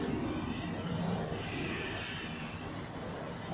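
An EasyJet airliner at Zurich Airport gives off a steady, moderately distant engine roar that fades slightly over a few seconds.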